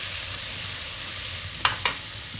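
Black pudding warming in a frying pan gives a steady, close sizzle and fry hiss throughout, with two brief louder crackles near the end.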